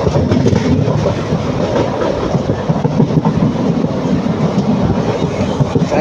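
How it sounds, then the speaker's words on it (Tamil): A train on the Coimbatore to Palakkad line rumbles steadily along the tracks through hilly country with a continuous low roar and rhythmic clatter of wheels, loud and close throughout. "ட்ரெயின் இதில் வந்து ஸ்லோவாக தாங்க போகும், ரொம்ப ஃபாஸ்ட்டாக போகாது."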